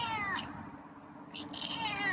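Two meows from a feral cat, the first short and the second longer and drawn out, close by over a low background hum.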